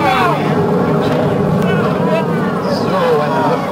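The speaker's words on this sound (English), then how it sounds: "Go for main engine start. 7, main engine ignition." Space Shuttle Atlantis main engines ignite at launch, a loud continuous roar under a commentator's voice.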